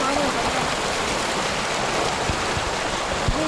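Steady broadband rush of a mountain river flowing near a trail below a peak in Mendoza, continuous and fairly loud throughout, with a few faint low thumps.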